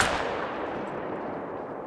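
A single pistol shot rings out while fox hunting in theHunter: Call of the Wild, a sharp crack at the very start that trails off into a long, fading outdoor echo.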